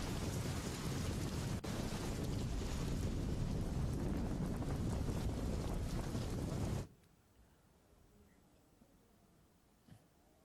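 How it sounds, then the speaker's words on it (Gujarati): Heavy monsoon rain in Dang district, Gujarat, near Vaghai and Saputara, pours as a dense, loud, steady hiss, then cuts off abruptly into near quiet with a faint knock. "વધઈ, સાપુતારામાં સારો એવો વરસાદ આજે નોંધાયો છે"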